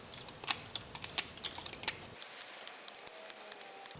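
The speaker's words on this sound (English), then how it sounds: "using mainly the corner of the pliers on the tip there to eat away at it" Grozing pliers nibble small bits from the edge of a piece of stained glass, sharp close crunchy snaps in an irregular run for about two seconds, then a few fainter clicks before the sound falls quiet.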